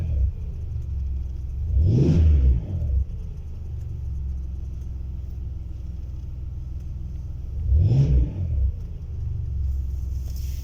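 A car engine idles steadily, then revs up twice when the accelerator is pressed, around two and eight seconds, as the car prepares to switch over to LPG. There is no talking.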